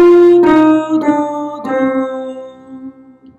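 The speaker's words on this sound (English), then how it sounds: "the first 4 notes of a minor scale in melodic mode sounds like this" A single voice sings the first four notes of a minor scale in melodic mode, three or four separate sustained pitches with a softly held final note, close and clear without other sounds.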